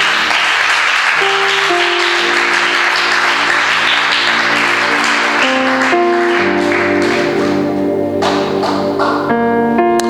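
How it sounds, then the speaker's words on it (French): A church congregation claps loudly and steadily through the whole stretch, almost buried under loud sustained keyboard chords and music. "Est-ce qu'on peut acclamer le Seigneur?"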